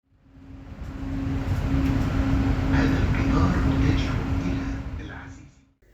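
A Doha metro train rumbles along from inside the car, noise swelling in and fading out, with a steady hum and faint rattles.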